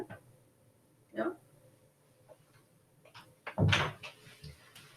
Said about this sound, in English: I'm going to go and open the door.